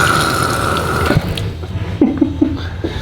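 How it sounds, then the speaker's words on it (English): A public water fountain in a Lewis County government building running with strong pressure, a steady rushing hiss of water close by that drops off partway through, followed by a few short gurgling splashes. "look at that water fountain"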